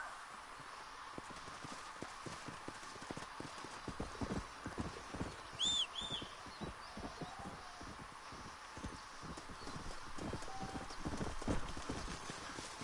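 A horse in the video game Red Dead Redemption clip-clops along in a brisk, rhythmic run of hoofbeats, with a brief whinny partway through and faint talk in the background.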